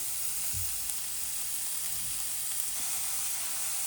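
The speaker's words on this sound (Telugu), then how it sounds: "ఆనియన్ కొంచెం వేగనివ్వాలండి." Onions frying in a pan for a bottle gourd and black-eyed bean curry, a steady close hiss of sizzling oil with a few faint low thumps of stirring, no voices.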